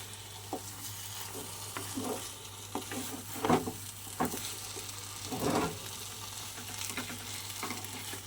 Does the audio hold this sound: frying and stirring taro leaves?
yes